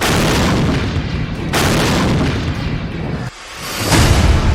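A drone exploding in the sky over Moscow gives heavy, loud booming rumbles, one sustained roar with sharper bursts at about 1.5 and 4 seconds and a short dip in between.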